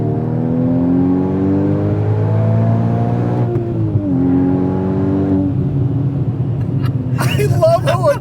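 A Porsche Cayman with a FabSpeed exhaust burbles loudly and steadily as its engine note falls down the rev range, with a brief sharp crackle near the end.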